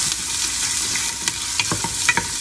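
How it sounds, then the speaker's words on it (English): Chopped onions hit a hot pot or skillet with bacon and crackle in a steady, close sizzle, with a few sharp pops and stirring scrapes breaking through. "Hear that sizzle? That's what you want to hear when you add your onions in."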